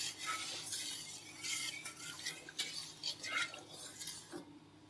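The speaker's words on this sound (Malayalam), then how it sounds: "ഇനി ഇത് നല്ല പോലെ ഇളക്കി കൊടുക്കാം." A ladle stirs homemade mango pickle (kadumanga) thinned with water in a pot, producing soft scraping and sloshing strokes in an irregular rhythm, close and fairly quiet, with no talking.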